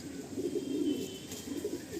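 Madrasi pigeons, black-feathered birds in a breeding loft, coo in low, rolling, throaty pulses that swell and fade over a couple of seconds, close by with a faint background hiss.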